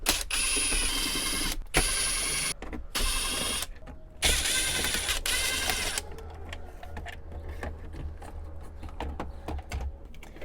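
Power driver backing out T20 Torx screws from a Sprinter van dashboard: close, steady whirring runs in several bursts separated by short pauses, then a quieter stretch of light handling noise.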